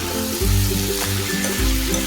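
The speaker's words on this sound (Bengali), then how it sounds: "পেঁয়াজ আদা রসুনের সঙ্গে এবার ভালো করে একটু কষে নিই।" Chopped jackfruit and potato sautéing in a pan with onion, ginger and garlic, a steady close sizzle with occasional stirring scrapes, loud and continuous throughout.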